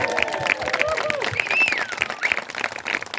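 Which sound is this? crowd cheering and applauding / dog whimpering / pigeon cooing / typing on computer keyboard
crowd cheering and applauding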